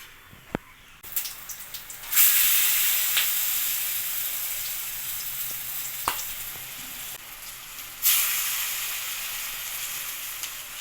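Bitter gourd leaf fritters coated in gram flour batter sizzle steadily in hot oil, a continuous bright crackle that swells as more battered pieces are dropped in, with occasional sharp pops and a faint tap or two.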